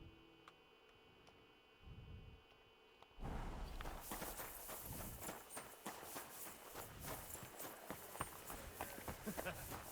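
A horse's hooves clip-clop in a steady walking rhythm in the Kingdom Come: Deliverance II video game. The hoofbeats are close, start a few seconds in and continue to the end over ambient game sound.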